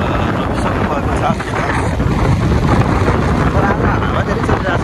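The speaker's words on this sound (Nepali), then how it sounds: "हावा धेरै चलिरहेको छ।" Strong wind blows across the microphone on a mountain road trip from Jumla Bazar to Tatopani in Nepal, a loud continuous rumbling buffet with no pauses.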